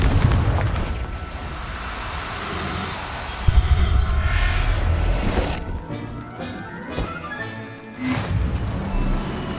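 A Confringo spell explodes in the video game Hogwarts Legacy with a loud, continuous rumbling blast and crashing debris, alongside dense game sound and music.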